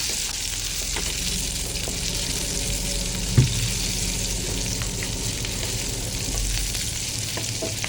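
Cubed tempe and bird's eye chili stir-fry in a pan, making a continuous moderate sizzle with occasional soft stirring scrapes and one brief knock. No one speaks.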